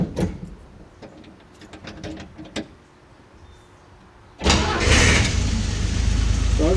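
A car engine cranks and starts, then settles into a loud steady idle close by, with a few clicks and mechanical noises before the start.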